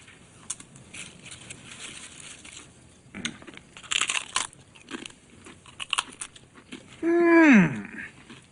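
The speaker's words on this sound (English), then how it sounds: "Your chip adds a needed crunch to our superior flavoring." Potato chips are crunched and chewed in brief crisp bursts, fairly close and moderately loud, while people talk around them, then a sharp rising-falling tonal sound ends the passage.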